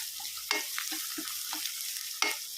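Turmeric is stirred into horse gram frying in oil in a pan: repeated scraping strokes over a continuous sizzle, close and clear, with no talking.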